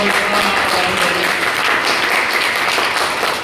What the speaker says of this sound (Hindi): ये जोरदार ताली बजा दिए